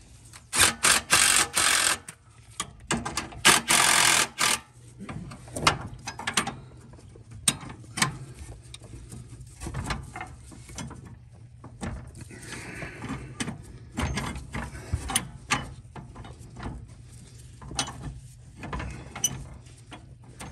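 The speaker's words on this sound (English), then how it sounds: "And then I'm just going to tack the bolts back in." Bolts being driven back into the steering assembly of a John Deere L, LA or D series riding mower, heard as bursts of loud ratcheting and mechanical clicking in the first few seconds, then quieter intermittent tool clicks and clatter.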